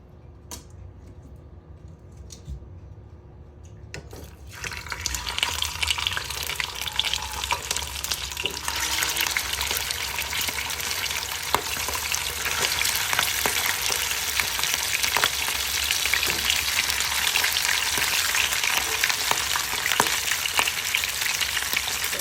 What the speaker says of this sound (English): So I want to start the frying of these turkey wings.